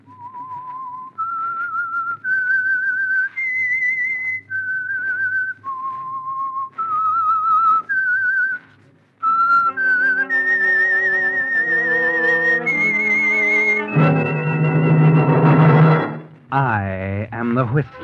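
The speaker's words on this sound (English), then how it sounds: "That whistle is your signal for the Signal Oil Program" A person whistles a short melodic tune in clear, distinct notes, the opening theme of a 1947 CBS radio mystery program, followed by an orchestral musical flourish that swells loudly near the end.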